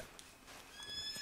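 A short, faint horse neigh from the video game Red Dead Online, with a thin, wavering high pitch, heard briefly over a soft background hiss.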